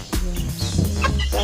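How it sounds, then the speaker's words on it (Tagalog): Native chickens clucking at close range beside a newly built chicken coop, several overlapping calls over a steady outdoor background with no talking. "Native na manok."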